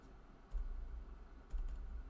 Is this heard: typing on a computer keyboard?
yes